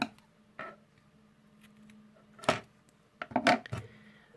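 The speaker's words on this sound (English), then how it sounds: "And now you're ready to cut the tails." Scissors snip crochet yarn tails in a quiet room: a few sharp, close clicks and cuts, scattered, with a quick double snip near the end.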